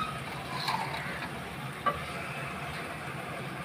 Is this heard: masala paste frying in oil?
yes